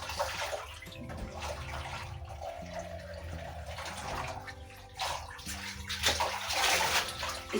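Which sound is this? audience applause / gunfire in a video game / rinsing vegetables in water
rinsing vegetables in water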